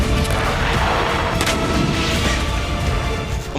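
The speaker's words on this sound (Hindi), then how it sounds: "अब वीरान शहर में बस धमाकों की गूंज है" Explosions and artillery fire in war-torn Bakhmut form a loud, continuous rumble with rolling booms and crashes, heard with no voices.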